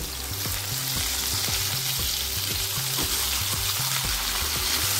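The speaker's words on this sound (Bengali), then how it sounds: "মাছগুলো বেশিক্ষণ ভাজা যাবে না। এবার উল্টে দেব।" Katla fish pieces fry in oil for doi katla, producing a loud, continuous, close-up sizzle with bubbling crackle and a regular stirring or scraping rhythm repeating throughout.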